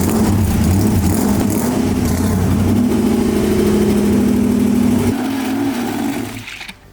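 A supercharged 1965 Ford Mustang V8 runs loud and close, a rough steady idle with a rhythmic ticking in the engine, the rumble dropping away near the end.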